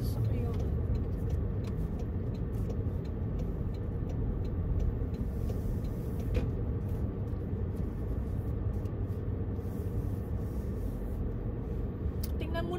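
Heavy traffic of many cars on a town road, a dense, continuous low rumble of engines and tyres that never lets up, with a voice faintly present over it.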